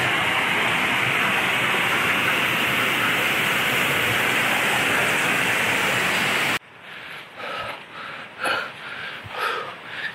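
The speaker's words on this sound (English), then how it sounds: "The waterfall continues out into the Pacific." A waterfall at Partington Cove in Big Sur, flowing into the Pacific, gives a loud, steady rushing roar that cuts off abruptly to quieter, gusty, breathy sounds.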